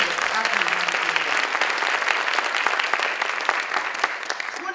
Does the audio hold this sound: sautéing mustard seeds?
no